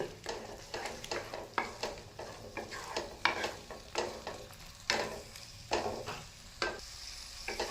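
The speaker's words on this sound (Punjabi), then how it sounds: "ਟਮਾਟਰ ਪਾ ਕੇ ਤੁਸੀਂ ਤੜਕੇ ਨੂੰ ਫੇਰ ਦੋ ਤੋਂ 3 ਮਿੰਟ ਪਕਾਣਾ ਹੈ" Tomato tadka cooking in a pan, a continuous sizzle broken by repeated rhythmic scrapes and stirs of a spoon, close and moderately loud.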